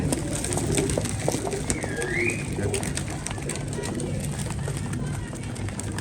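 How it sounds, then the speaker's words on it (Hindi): Pigeons coo softly among steady background noise, with a brief chirping whistle partway through and faint scuffling throughout. "कबूतर फिट हैं, फुल टाइम दाना खाने में मसरूफ़ है।"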